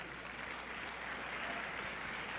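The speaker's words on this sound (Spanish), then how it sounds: "Dale un aplauso al Rey de Reyes." Church congregation applause during a Spanish-language sermon, a steady dense wash of clapping held at moderate distance for a couple of seconds with no voices over it.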